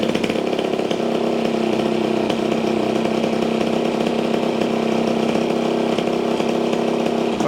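A small engine flooded with oil runs steadily, burning the excess out of the crankcase, giving a buzzy, chainsaw-like drone that holds at an even pitch and level with no pauses.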